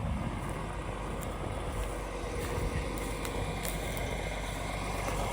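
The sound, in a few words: farm tractor engine running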